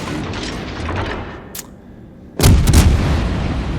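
Naval gunfire in World of Warships: Legends, with a De Grasse cruiser engaged: a faint distant shot, then a loud, close boom at about the midpoint, followed by rumbling repeated blasts over a steady battle background.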